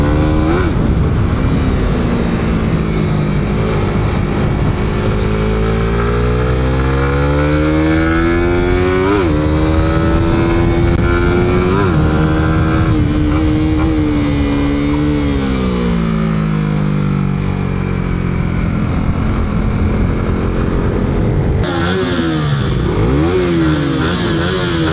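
Raider Pro motorcycle engine with ABS and a slipper clutch, revving hard and accelerating through rising and falling pitch sweeps with gear changes, loud and close throughout without speech.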